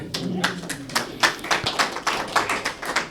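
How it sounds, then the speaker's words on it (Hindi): Clapping from an audience at a stage show, heard as a sparse, rhythmic run of sharp hand claps close by, roughly evenly spaced with slight thumps, with faint voices in the background. "इन्हें भी तालियां बजाओ।"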